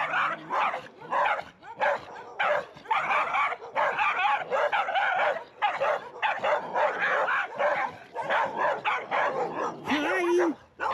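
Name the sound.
small dogs barking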